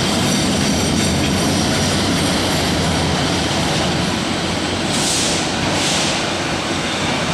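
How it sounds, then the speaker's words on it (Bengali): The Rangpur Express passenger train passes beneath an overbridge with a loud, continuous rumble and clatter of wheels and cars, and two brief hissing bursts sound near the end. "দেখা যাচ্ছে এটা হলো রংপুর এক্সপ্রেস ট্রেন"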